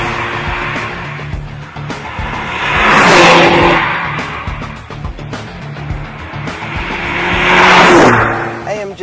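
A Mercedes AMG 2-litre four-cylinder engine revs and accelerates hard twice, each surge swelling to a loud peak with tire noise before easing off.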